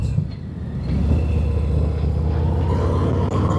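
Harley-Davidson motorcycle pulling away from a dealership onto the road, a deep rumbling engine building steadily and heard close up, no talk.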